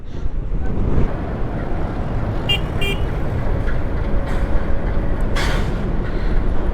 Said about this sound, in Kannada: ಹಳೆ ಟ್ರ್ಯಾಕಲ್ಲಿ ಟ್ರೈನ್ ಹೋಗೋದು ಒಂದು ಕ್ಲಿಪ್ ಹಾಕಿರ್ತೀನಿ